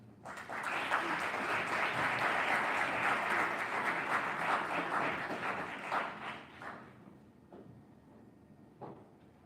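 An audience claps in steady, dense applause to welcome May Sabusi on stage at a legal moot event, loud for several seconds before thinning into scattered claps and fading out.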